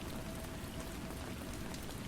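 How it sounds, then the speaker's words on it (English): Steady rain falling on a lake beside a porch, a dense and even hiss that stays constant and fairly loud throughout, with no voices. "The rain recommenced,"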